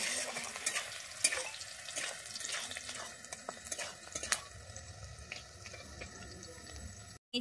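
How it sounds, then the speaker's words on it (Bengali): Chopped onions fry in oil for an egg do-peyaja, a steady sizzle with scattered stirring clicks and scrapes, briefly cutting out near the end. "আমি এখানে পেঁয়াজটা কিন্তু লাল করে ভেজে নেব।"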